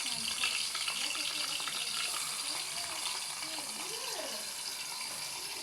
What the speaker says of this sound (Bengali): এখন তেলটা গরম হলে আমি আলুটা ছেড়ে দেব